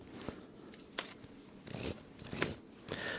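A deck of cards shuffled during a cozy ASMR stream, soft irregular riffling and tapping bursts, close and quiet.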